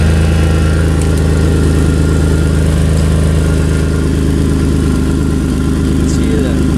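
A Chevy Impala engine idles loudly and steadily up close, its rusted, leaking muffler giving a constant low exhaust rumble with a faint rough burble throughout.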